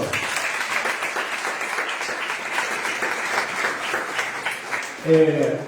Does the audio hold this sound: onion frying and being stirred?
no